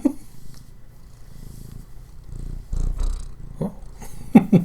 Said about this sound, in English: my cat came up here and wanted to jump on my lap